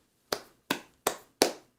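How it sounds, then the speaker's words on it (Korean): Four sharp hand claps in an even rhythm, close and fairly loud, celebrating a Roborock robot vacuum that lifts its mop on fabric carpet and only vacuums there; no speech. "로보락한테 박수 한번 주세요."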